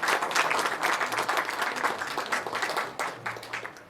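A crowd applauds steadily at a Christian church book launch for a poetry collection, the dense clapping filling the room at an even, sustained level throughout.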